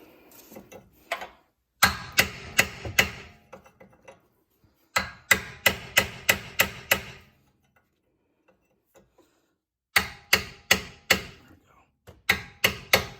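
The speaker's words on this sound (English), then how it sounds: "There's a slot here in the knuckle here that I'm just going to hammer a chisel in just to spread the ears just a little bit." A chisel being hammered into the slot of a steering knuckle on a 2012 Hyundai Tucson's front suspension: bursts of sharp, rapid metallic blows close by, separated by quiet pauses.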